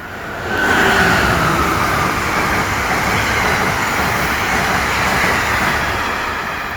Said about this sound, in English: Forgive the trains.